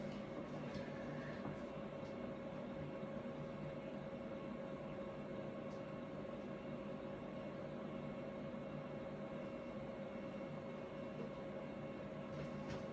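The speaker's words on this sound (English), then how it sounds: "If you're wondering what this ugly sound is and if you can fix it, no, you cannot fix it. It's just the sound of the 182." A Cessna 182 engine taxiing in Microsoft Flight Simulator 2024 gives a steady, quiet, droning hum with a fixed tonal whine, unchanging for the whole stretch and with no talk.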